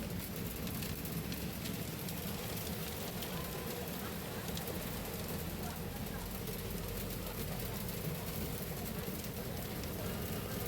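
Hail and heavy rain pelt a moving bus in a dense, continuous roar of drumming impacts that fills the whole stretch at a constant loud level.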